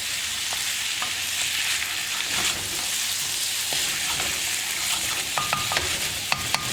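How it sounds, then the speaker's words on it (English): Fennel sausages fry in a pan with a dense, even sizzle while being stirred, with scraping strokes and a few sharp clinks of utensil on pan near the end, close and without speech. "And then the next thing, obviously, is the sausages. Put them in. Easy. Again, give that a stir."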